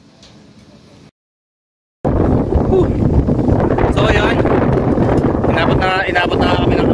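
Strong wind buffets the microphone at an outdoor microwave antenna site, cutting to silence for a second before roaring back loud and continuous, with voices talking over the gusts.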